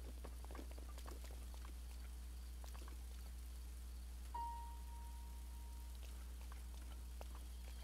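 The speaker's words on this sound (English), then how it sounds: "Oh, it's starting to rain." Rain falls steadily in the video game The Legend of Zelda: Breath of the Wild, a soft, even patter that is quiet and continuous throughout, with no voices.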